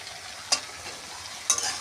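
Pumpkin greens and stems are stir-fried in a pan, with two brief scraping strokes of a spatula over a soft, steady sizzle, close by.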